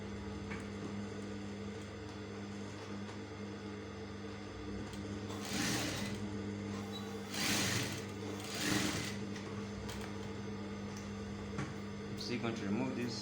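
A sewing machine stitches a shirt collar with contrasting thread, a steady low mechanical whir running throughout with a few louder bursts of faster stitching partway through.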